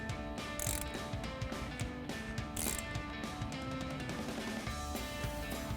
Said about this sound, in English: tighten it down with your 15 millimeter socket